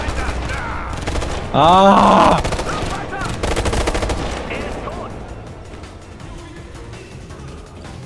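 AK rifle fire in the video game Ghost Recon Future Soldier, a run of rapid shots and game noise with a short loud burst near the start, a brief shout and German chatter over it.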